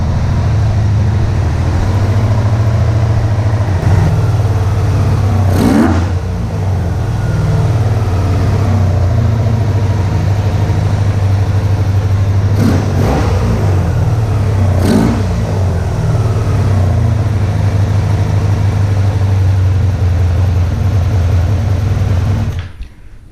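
A motorcycle engine idles with its idle set high, a steady loud running drone throughout with a few brief sharper bursts, close by and without talk.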